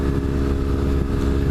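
A motorcycle fitted with a Two Brothers aftermarket exhaust, a steady loud engine drone at constant revs with a deep rumbling tone and no talk over it.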